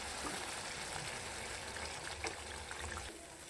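Spice masala fries in hot oil for egg sukka, a soft, steady sizzle with faint crackles, quiet and close, with no talking.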